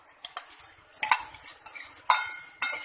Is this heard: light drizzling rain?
no